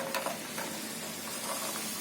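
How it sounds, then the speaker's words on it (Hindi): Jaggery dropped into hot ghee with crackling cloves, a steady soft sizzle with faint pops and stirring, close and quiet with no talk. "लौंग जब अच्छे से तड़क जाए तो इसमें डालेंगे हम गुड़"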